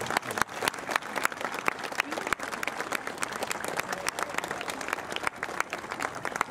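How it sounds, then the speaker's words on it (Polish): Crowd applause at an outdoor anniversary ceremony outside the Gdańsk Shipyard, steady dense clapping from many hands with a few sharper individual claps, sustained at an even level throughout. "Brawa Gdańsk!"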